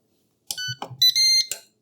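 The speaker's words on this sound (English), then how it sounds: "we were waiting for the beeping" A Ninja Foodi Possible Cooker Pro sounds a short run of electronic beeps and chimes, close and clear, lasting about a second with no talking.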